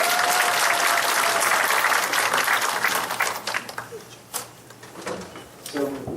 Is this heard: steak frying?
no